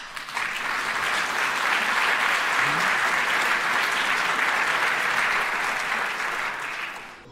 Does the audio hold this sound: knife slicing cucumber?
no